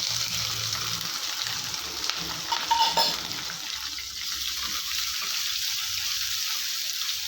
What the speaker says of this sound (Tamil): இந்த வெங்காயம் வந்து கொஞ்சம் கண்ணாடி பதம் வர வதக்கி வறுத்து விட்டுக்கோங்க